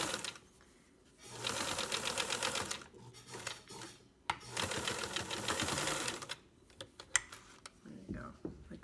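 A sewing machine stitches fabric in two long, fast, rattling runs separated by a brief pause for a back tack, sounding close and steady, with light handling noises in between.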